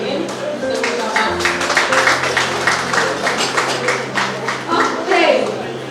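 Applause from the audience at an awards dinner, a dense run of claps under and around a voice speaking over a sound system with music, steady for several seconds.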